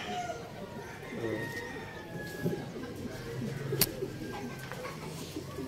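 Racing pigeons coo and call near the loft as birds return from a derby toss, with soft wing flutters and a voice speaking in the background.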